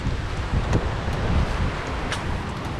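Strong wind blows steadily by Lake Superior after a windstorm, a loud continuous rumbling roar with gusty buffeting on the microphone and no voices.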